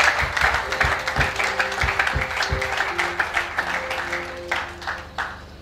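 Church congregation at a dedication service applauding and cheering together, a dense steady wash of clapping over several seconds, with a few low thumps and some background voices and music tones mixed in.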